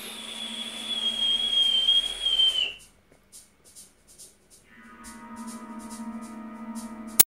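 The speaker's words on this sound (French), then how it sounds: "selon comment on positionne l'airflow, il peut siffler." A vape atomizer's airflow whistles: a thin, steady whistle rides over airy hiss for a few seconds, then breaks off into near silence before a faint whistling drone resumes.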